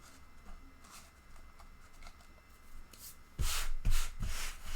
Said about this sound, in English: we're getting fresh sandpaper for this